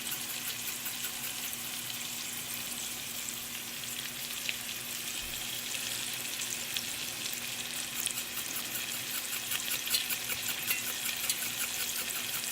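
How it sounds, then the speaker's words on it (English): Chopped onions sweat and sizzle in a hot pan on the stove, a steady close frying hiss that runs without break beneath faint stirring, with no voices. "We're going to sweat down the onions, get them good and translucent."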